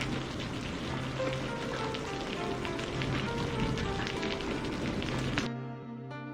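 Heavy rain in a cartoon story: dense, steady patter of rain on surfaces, moderately loud and continuous, cutting off abruptly near the end, with a low tonal hum underneath.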